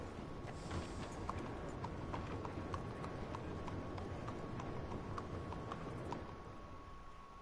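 Horse hooves clip-clop steadily at a walking pace in the video game Red Dead Redemption 2, a soft even rhythm of hoofbeats set against faint game ambience.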